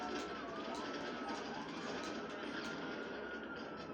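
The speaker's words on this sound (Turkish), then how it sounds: "Oha helikopterle dalıyorlar." Helicopter in a video game, a steady loud rotor-and-engine roar that fills the whole stretch without a break, with faint overlapping game noise.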